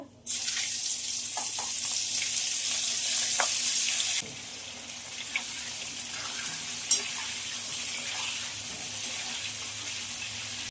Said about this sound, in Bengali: ফুলকপিগুলো একটু ভেজে নেব